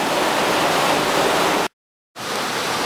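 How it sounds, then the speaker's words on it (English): Mill Creek Falls, a waterfall on the Mason Dixon Trail heard from beneath a road bridge, gives a steady, loud, full-bodied rushing roar. It cuts out briefly and then resumes. "I think it's safe to say this is Mill Creek Falls."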